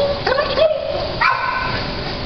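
A dog gives high, rising whimpers and short yips in two close bursts, then a brief bark, near and fairly loud over a low background.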